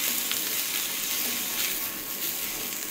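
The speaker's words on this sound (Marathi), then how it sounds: "2-3 मिनिटं परतून घ्यावं मस्त एकजीव करून।" Basmati rice being sautéed in a pan with fried coconut for sweet coconut rice, a dense, even sizzle with a faint scrape or two of stirring, close and steady without speech.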